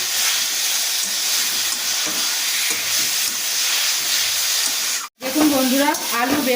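Eggplant sautéing in a pan with turmeric, salt and spices gives off a loud, continuous sizzle and hiss, broken by a short pause, then a voice speaks over the frying.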